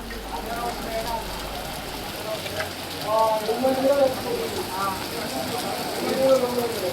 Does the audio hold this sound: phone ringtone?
no